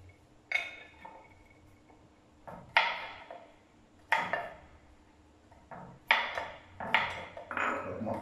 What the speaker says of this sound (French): nous allons couper l'ail, le curcuma et le gingembre en petits dés.